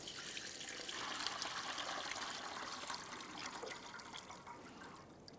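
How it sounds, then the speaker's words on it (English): Windshield washer fluid from a 2002-2009 Chevrolet Trailblazer reservoir pours steadily into a collection receptacle, a continuous trickling splash that fades slightly toward the end. "We'll bring it over the collection receptacle, drain it out"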